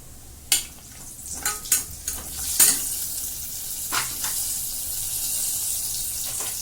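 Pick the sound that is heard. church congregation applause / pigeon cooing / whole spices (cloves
whole spices (cloves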